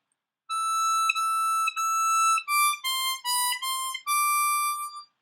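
A C harmonica plays the opening line of a song, with three long held notes followed by quick alternating blow-draw notes and a closing sustained tone. It sounds bright, close and solo, with no voices.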